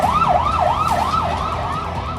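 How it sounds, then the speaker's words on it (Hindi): A loud war siren wails continuously, its pitch swooping up and down in a rapid, repeating cycle. "युद्ध का सायरन बजने लगा है"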